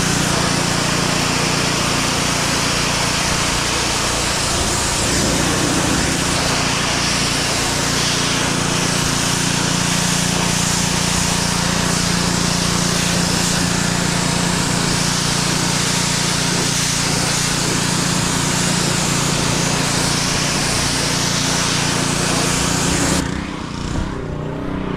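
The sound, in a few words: pressure washer blasting dirt off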